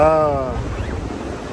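Atlantic Ocean surf rushes steadily on a beach at Atlantic City, New Jersey, with wind buffeting the microphone, and a brief tonal sound fades out at the start.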